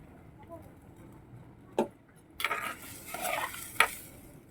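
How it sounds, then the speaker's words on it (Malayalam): A pot of tuna fish curry, Kerala style, being stirred: a few quick scraping strokes of a spoon against the pot, with a sharp metallic clink near the end and quiet gaps between. "ഉപ്പിട്ടിട്ട് കുറച്ച് ഇളക്കി കൊടുക്കുന്നുണ്ട്."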